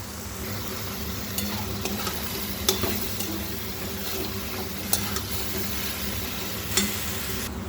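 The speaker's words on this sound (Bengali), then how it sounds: "একটু হলুদ দিয়ে দিলাম দিয়ে একটু নাড়াচড়া করে ভেজে নেব" Shapla (water lily stems) with turmeric being stirred and fried in a pan, a soft steady sizzle under a low hum, with a few sharp spatula clicks against the pan.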